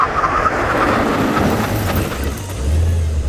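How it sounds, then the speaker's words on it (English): A Brabus car makes a full emergency stop from 60 mph, a loud steady road and tyre roar with engine rumble that swells again near the end, with no voices. "Brake test from 60 miles an hour."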